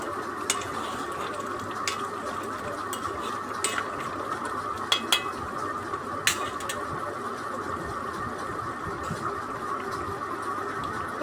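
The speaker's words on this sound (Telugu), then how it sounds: "ఒకసారి కలుపుకుందాం." Raw prawn and okra curry is stirred in a pot, with scattered scrapes and clinks of the spoon over a steady loud hiss of simmering, and occasional brief knocks.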